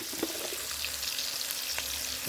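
Marinated food, salted after two hours in the fridge, frying in a pan with a continuous dense hissing sizzle, close and fairly loud, with a couple of light clicks from a utensil.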